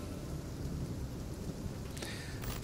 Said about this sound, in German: wie ihr hört, es regnet